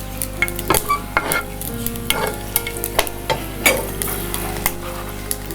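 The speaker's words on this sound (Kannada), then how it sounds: "ಒಗ್ಗರಣೆಗೆ ಕುಸುಬಿ ಎಣ್ಣೆಯನ್ನು ನಾನು ಒಗ್ಗರಣೆಯಲ್ಲಿ ಬಳಸ್ತಾ ಇದ್ದೀನಿ ಸಾಸಿವೆ ಬೆಳ್ಳುಳ್ಳಿ" Mustard seeds and garlic crackle and sizzle in hot safflower oil for a tempering, with a steady frying hiss broken by sharp, irregular pops and spits close to the pan.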